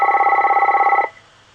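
A telephone rings with a steady electronic warble, a rapid pulsing tone heard loud and close for about a second before cutting off, leaving quiet room noise.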